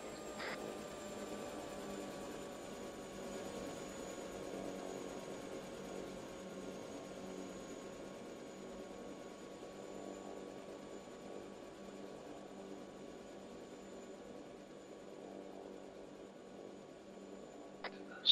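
Steady droning rotor and engine noise of a helicopter in ArmA 3 holds for the whole stretch, a continuous mechanical hum that stays fairly even as it circles overhead.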